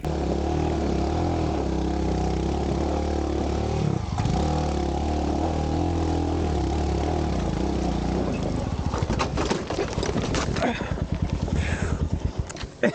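X Pulse or Himalayan motorcycle engine held at steady high revs, loud and close, shifting to rough, uneven chugging pulses near the end as the rear wheel struggles, with a voice talking over it.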